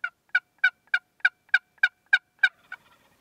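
Several wild toms gobbling in reply to a hunter's call, nine quick evenly spaced gobbles in a row fading into softer clucks at the end, clear and fairly close in quiet woods.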